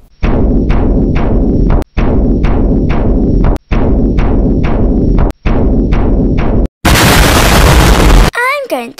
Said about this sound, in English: I can bang a drum